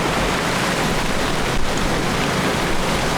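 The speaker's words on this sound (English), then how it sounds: "Look at these waves." Waves slapping around a boat at anchor in a west wind, a loud, continuous rushing wash of water and wind with no voices.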